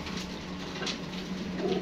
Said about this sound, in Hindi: ये प्योरिटी में बांका कबूतर है सर